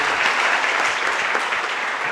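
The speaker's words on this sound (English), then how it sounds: "So a round of applause, first of all." Steady, dense applause from a security conference audience, a continuous wash of many hands clapping at close range with no pauses.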